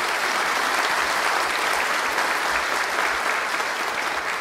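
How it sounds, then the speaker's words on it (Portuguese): An audience at a university program ceremony applauds, a dense, loud and continuous clapping that fills the whole stretch without pause and with no one talking over it. "Uma salva de palmas para todos."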